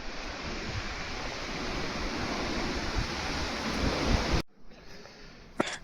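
Steady roar of wind and breaking waves during a North Sea storm, heard from aboard a ship, loud and continuous, then cut short to a quieter, muffled background near the end.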